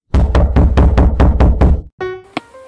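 Knocking on a door, seven loud, evenly spaced thuds in a quick steady rhythm, close up, followed by a brief tonal sound effect.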